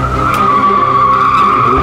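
Car tyres skidding through wet paint give a sustained, loud screeching squeal with a steady high whine and engine rumble, continuous for the whole stretch.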